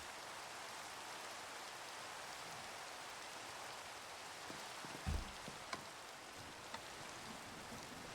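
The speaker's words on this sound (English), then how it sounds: "Why is it raining in my house?" Rain falls in the Minecraft game as a soft, even hiss of steady drops, faint and continuous, with a few small knocks near the end.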